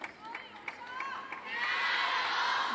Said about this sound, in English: Plenty of support for her here in the crowd. You can hear them chanting her name.